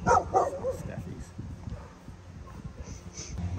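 Several Staffordshire bull terriers in a home give short yips and barks near the start, then whimper faintly beneath ongoing human talk.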